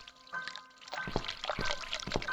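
Running water in the video game The Cat Lady, a steady watery pouring and trickling with scattered drips and splashes, moderately close and fairly quiet, with no talk over it.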